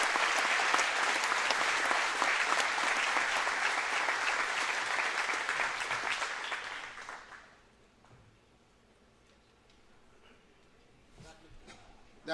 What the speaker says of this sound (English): Let's all give Bobby a round of applause.